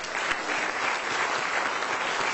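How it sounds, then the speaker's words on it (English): Audience at a corporate excellence awards ceremony in Goa breaks into loud, sustained applause, a dense even wash of many clapping hands close by, with no voices rising above it. "I'd like a big thunderous round of applause for a very close friend of mine"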